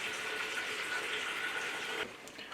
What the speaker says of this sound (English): then we're going to add some water to it